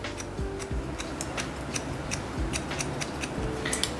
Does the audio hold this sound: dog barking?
no